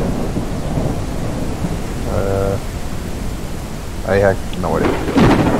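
Rain hiss and rolling thunder inside the HumanitZ survival video game, a steady wash of rainfall with low rumbles swelling near the end, while players talk over it.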